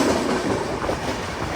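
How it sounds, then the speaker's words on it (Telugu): A train rolls past on the adjacent track near Itarsi Junction, a loud, close, continuous rumble with dense rattling wheel clatter throughout. "అండ్ మన పక్కనే ఏదో ట్రైన్ అయితే వెళ్తుంది"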